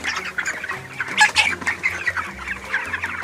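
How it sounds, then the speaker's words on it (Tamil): Broiler chickens, about 9,000 birds roughly 24 days old, clucking inside a poultry farm shed, a dense overlapping chorus of calls with a few louder squawks near the middle, close and continuous with no talk. "இது எல்லாமே வந்து 9000 கோழி இருக்குது கிட்ட."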